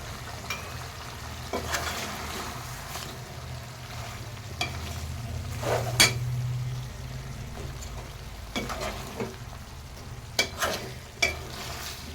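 Chopped tomatoes are stirred into chicken and drumstick curry frying in a pan, giving a continuous sizzle broken by repeated spatula scrapes and clinks, with a low kitchen hum underneath.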